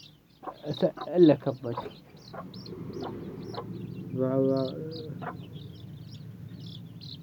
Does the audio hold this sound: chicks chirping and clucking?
yes